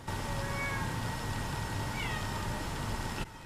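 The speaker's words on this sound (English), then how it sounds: "My cat's upset that I closed my door to film." A cat meows from behind a closed door, a few drawn-out cries rising over a steady indoor background hum, fairly close and clear, with no talking.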